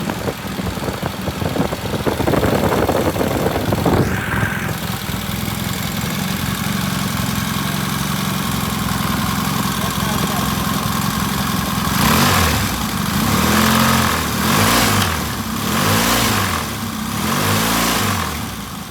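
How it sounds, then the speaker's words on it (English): A vintage British motorcycle engine idles with a steady, loud, close thrum, then revs repeatedly in a series of rising and falling bursts toward the end. "Bike idles, bike revs, bike starts."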